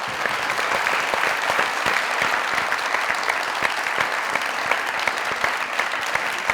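Dense, even studio audience applause on a comedy talk show set, a continuous wash of many hands clapping close and loud with no break.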